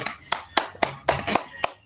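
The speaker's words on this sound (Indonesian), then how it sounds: "Tepuk tangan dulu untuk Sulastri dan kelompok 2." Classroom clapping for a student group, about eight sharp, separate hand claps in an uneven rhythm, close by, with a voice audible faintly between them.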